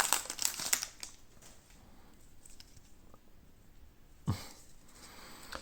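Union Arena Re:Zero booster packs are opened with bursts of crinkling foil wrapper at the start, then quieter rustling and handling, and a sharp tearing crackle near the end, all close by.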